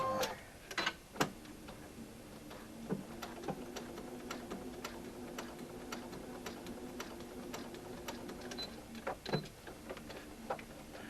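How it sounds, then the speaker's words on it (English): A sewing machine stitching fabric along a marked seam line with a seam allowance guide, giving a steady, quiet mechanical hum with faint ticking clicks and a few louder knocks near the start and end. "And I sew right along the line."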